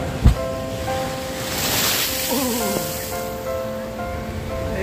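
Ocean waves surging against rocks at Om Beach, Gokarna, a broad rushing wash of surf building and receding, heard close with wind buffeting the microphone and a sharp knock near the start.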